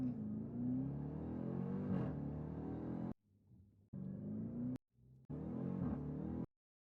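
A car engine revs hard and pulls away, pitch climbing then dropping at each gear change, with brief quiet gaps between bursts of acceleration.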